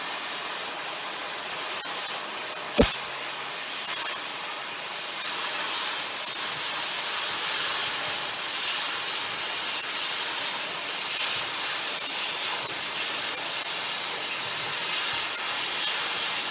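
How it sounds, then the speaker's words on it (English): An oxy-fuel torch cuts through half-inch steel plate with a loud, steady roaring hiss that runs for many seconds. A single sharp pop comes near the start, and no one speaks. "It's been a long time since I cut 1/2 inch plate."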